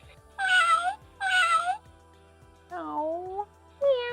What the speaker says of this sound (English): Oh, meow, meow.